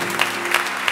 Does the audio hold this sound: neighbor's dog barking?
no